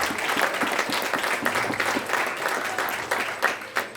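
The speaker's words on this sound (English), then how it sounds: "Big round of applause for the guys." Audience applause fills a high school award ceremony honoring a county championship team, a steady dense clapping from a large crowd that swells and dips slightly with a few louder claps near the end.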